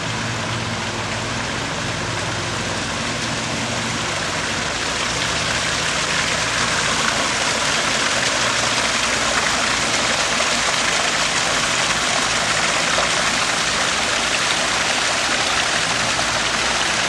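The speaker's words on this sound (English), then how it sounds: "This little waterfall is nice. Falls into this little pool and pond." A small waterfall spilling into a pool and pond, a loud, constant broadband rush of splashing water, close and unbroken throughout.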